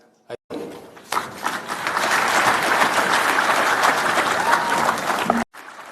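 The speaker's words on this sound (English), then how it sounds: "Another round of applause for our Vice Chair" Audience at a political gathering bursts into loud sustained applause that builds after a brief pause and holds steadily for several seconds before cutting off.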